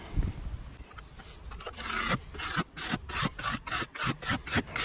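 Gunk and debris are scraped out of the fins of an RV air conditioner in a run of short, rapid scratchy strokes that speed into a quick rhythm, heard close up with no talking.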